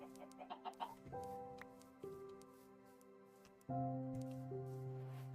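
Chicken clucking in a block-building survival game, a series of short bursts followed by sustained tonal calls, with a louder second stretch near the end; no talking.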